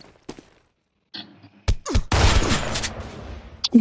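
AK-47 gunfire in a video game: a few sharp isolated shots, then a loud sustained burst of rapid fire with a final crack at the end.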